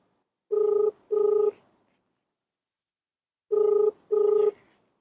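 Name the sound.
telephone call ringing, not answered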